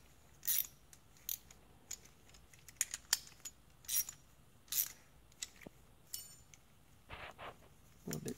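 A nut being tightened with a wrench onto a factory bracket with a nylon washer on a car trunk support, sparse metallic ratcheting clicks and clinks at irregular intervals, close and quiet.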